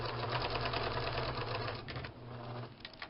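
A sewing machine stitches a fabric neck bag with a rapid, steady mechanical whir and needle patter, pausing briefly and then running again, close and clear with no talk.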